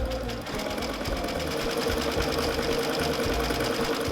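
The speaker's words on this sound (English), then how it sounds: "when you're sewing, never push or pull on the work, just let the machine take it through at its own pace" A sewing machine stitches a close satin stitch for raw edge appliqué, running as a fast, steady, close mechanical chatter of needle strokes throughout, with no speech over it.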